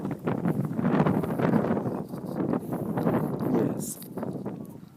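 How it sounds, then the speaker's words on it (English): Outdoor wind buffets the microphone in rough, low rumbling gusts that rise and fall continuously, with a brief lull near the end. "it's windy and I hope you can hear it"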